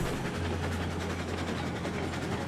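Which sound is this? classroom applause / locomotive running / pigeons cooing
locomotive running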